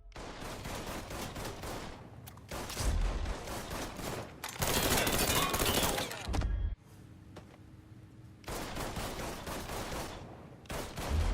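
Gunfire in Mafia 3 during a final shootout: clustered volleys of rapid shots come in several loud stretches, split by short quieter gaps.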